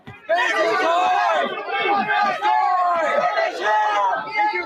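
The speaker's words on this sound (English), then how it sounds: "Listen to that crowd!" Crowd at a live street racing show roaring and shouting together, a loud, dense wall of many voices whooping and yelling at close range.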